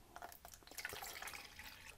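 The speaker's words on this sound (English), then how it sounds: "So let's put my water in first" Tap water is poured into a container to mix film developer, heard as soft, quiet trickling and dripping with small splashes, close by and alone.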